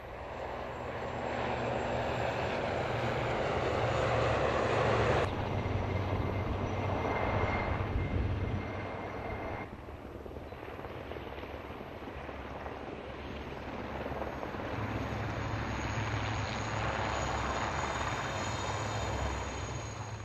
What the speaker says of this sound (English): took part in a flypast at RAF Benson in Oxfordshire, escorted by two of the base's Puma helicopters.